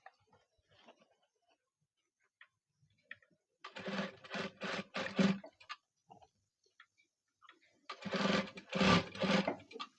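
A sewing machine stitches close along the piping on a blouse's back neckline. It makes two short, rapid runs of stitching with a quiet gap between them, faint and close by.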